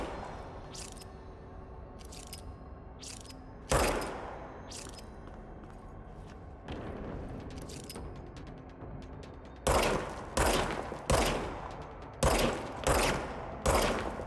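Gunfire in a horror video game: a burst of rapid shots late on, preceded by scattered single heavy reports and thuds over a low ambient game soundscape, with no talking.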